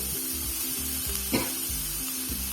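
Chopped carrots, capsicum and cabbage frying on a tava with green beans, a steady close sizzle with faint stirring scrapes throughout and one brief louder clatter midway.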